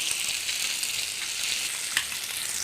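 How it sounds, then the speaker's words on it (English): Fish frying in a pan over a low to medium flame: a steady, bright, hissing sizzle with small pops. It is fairly close and runs on its own without a break. "Add fish. Keep the flame in low to medium, then only fish can cook well."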